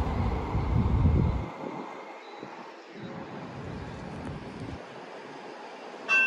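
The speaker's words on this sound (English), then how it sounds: "we got Amtrak 89 coming in right after 90" An Amtrak passenger train on a CSX line, heard as a low rumble fading away under steady wind noise, with a brief sharp sound at the very end.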